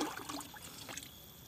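Water trickles and pours faintly onto koro bean and chili plants during garden watering, a soft, steady dribble with no speech.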